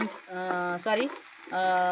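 Garlic sizzles in hot oil in a kadhai, a steady close frying hiss running through the clip, with some intermittent tonal background sounds over it.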